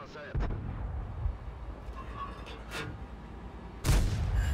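A tank destroyer fires a premium shell in World of Tanks, likely the Swedish Strv 103B on a test server, with two heavy booming cannon blasts about three and a half seconds apart over a rumbling battle ambience.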